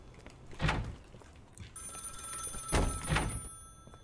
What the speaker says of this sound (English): Oh, no, we have a phone call.